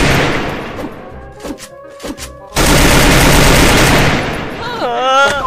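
Gunfire in the Free Fire mobile shooter: scattered shots first, then a long, loud burst of rapid automatic fire with a rising whine near the end, close and dense.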